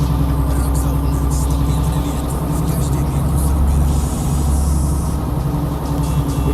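A truck engine drones steadily while driving in Euro Truck Simulator 2, a loud, continuous low rumble with constant road and motor noise and no pauses.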